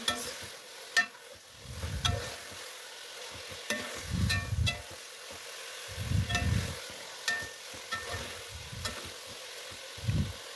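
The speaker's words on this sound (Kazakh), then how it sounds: "Осы қуырып жатқанда еттің үстіне пияз саламыз." Meat and onion frying together in a pan for Kazakh kuyrdak, with repeated stirring scrapes in bursts about every two seconds over a steady low sizzle, close and fairly quiet.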